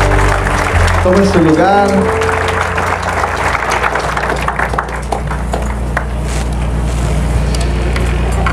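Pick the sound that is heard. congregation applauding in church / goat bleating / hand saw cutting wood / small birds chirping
congregation applauding in church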